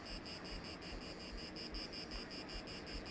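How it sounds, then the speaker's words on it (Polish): Cicadas at Logas Beach, Corfu, buzz steadily in a shrill, high drone that pulses in quick regular waves, over a rough, wind-like rush of background noise. "Cykady."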